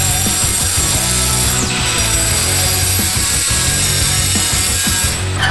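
A screw is cut down to size during a turbo kit and manifold swap on a Honda Civic, with continuous loud, harsh grinding and rasping close up. A whining machine tone runs underneath without a break.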